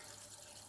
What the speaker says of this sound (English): water comes in and flushes the membrane, and all of the wastewater